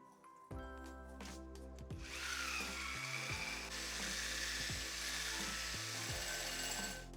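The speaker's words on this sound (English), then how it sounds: "Add a tablespoon of sugar to the egg yolk and beat it with a mixer till it's light and fluffy" An electric mixer beats egg yolks with a tablespoon of sugar, its motor whining and changing pitch as the beaters work, with a continuous whirring rattle after a clattering start.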